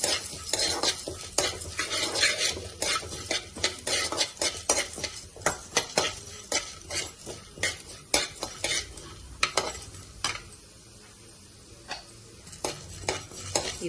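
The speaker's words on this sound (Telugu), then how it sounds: "కొన్ని మినపగుళ్ళు వేసాము ఇప్పుడు ఇది ఫ్రై చేసుకుందాం" Urad dal and chana dal stir-fry in a pan as part of a bitter gourd spice powder, with repeated scraping strokes of a spatula over a light sizzle, in a steady rhythm that pauses briefly near the end.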